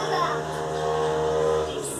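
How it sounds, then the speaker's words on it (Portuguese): A motorcycle engine drones steadily in the background, low and continuous, with a voice speaking over it. "Desculpa o barulho de moto"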